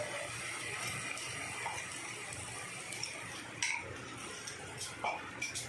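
Ginger, garlic and green chili paste frying with onions in a pan for a dry potato and capsicum dish, a soft continuous sizzle with occasional light utensil scrapes, fairly quiet and without talk.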